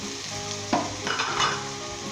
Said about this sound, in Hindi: और दोस्तों अब अच्छे तरीके से हम इसे स्टर फ्राई करेंगे 5 मिनट तक